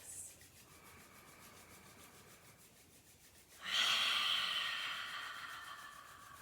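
Hands rubbing together, a soft close swishing friction that starts faintly, then swells suddenly and fades slowly, with no talking.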